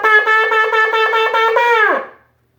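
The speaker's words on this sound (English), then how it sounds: "the third one is the truah, which is 9 short blasts." A shofar sounds truah at a Rosh Hashanah service, a rapid run of short, bright blasts, about nine in a row, then holds a final note that sags and cuts off.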